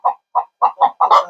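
A hen clucks ahead of laying an egg, giving five or six close, loud, evenly spaced clucks, with the last pair running together into a longer, rising squawk.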